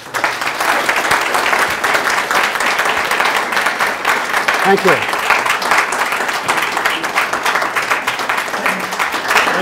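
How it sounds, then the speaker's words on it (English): Steady audience applause fills a business breakfast talk, dense and continuous throughout, with a brief spoken thanks heard over the clapping. "give a big round of applause"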